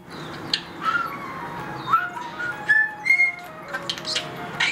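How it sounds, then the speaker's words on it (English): A pet starling whistles the opening bars of Eine kleine Nachtmusik: a run of clear, close, gliding whistled notes, each short, with faint chirps and rustles between phrases. "I started whistling the entry bars to Kleine Nachtmusik. And she copied that, one of her favorite tunes."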